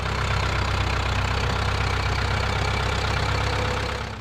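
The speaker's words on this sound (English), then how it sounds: "the sound of a Ford engine roaring steadily on the edge of a field" A 1965–1976 Ford 5000 tractor engine idles steadily at the edge of an Iowa field, a loud, continuous low rumble with a knocking undertone that holds even throughout before easing slightly at the end.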